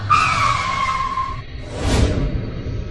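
A car skids to a stop on a road through a forest, with a loud tire squeal that cuts off, then a whooshing rush of the vehicle and its engine rumbling, with no talking.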